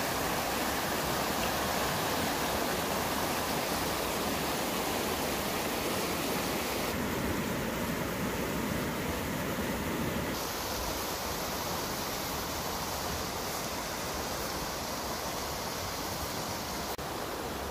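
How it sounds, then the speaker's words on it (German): River rapids rush past a kayak in knee-deep water, a steady, loud broadband roar of churning water with no pauses. "Also das sind so richtige Stromschnellen."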